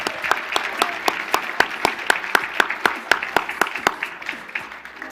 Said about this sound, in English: let's give those award winners one more round of applause